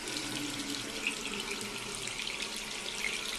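Water rushing steadily through a household drain as it is being cleared, a continuous close, moderately loud gurgling flow like a running tap, with no talking.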